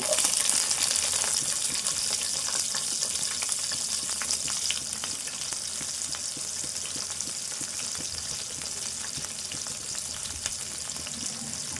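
Onions frying in a pan for a ridge gourd, chana dal and tomato curry make a dense, steady hiss and crackle that carries on without a break, loud and close throughout.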